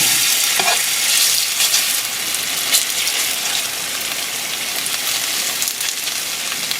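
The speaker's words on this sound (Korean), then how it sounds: "팬에 불이 달구어진 다음에 식용유를 넉넉히 넣어주세요. 감자채를 넣어주세요." Shredded potato sizzles and crackles steadily in a generous pour of hot cooking oil in a pan, a dense, continuous frying hiss close up with no voices.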